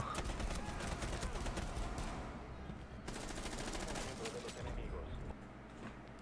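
Rapid bursts of Rainbow Six Siege gunfire crackle repeatedly with a steady, dense background of battle noise, loud and continuous throughout.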